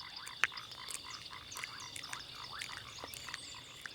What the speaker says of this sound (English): This pair of foam nest tree frogs busily build a place for the female to lay her eggs.